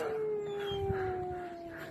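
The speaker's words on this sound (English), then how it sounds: "There's some more dogs." Dogs outside an office in Wyoming let out a long, sustained howl, a single drawn-out tone that holds steady and slowly sinks in pitch, close and clear with no talking.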